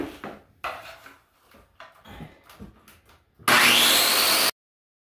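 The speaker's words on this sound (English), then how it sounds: "I'm gonna cut as far as I can go, and for the little bits on either end that I can't get with the skill saw, I'll go with the reciprocating saw." Circular skill saw cutting during a bathtub install, a loud burst of high whining cut lasting about a second near the end, preceded by scattered knocks and handling noises, with no talking.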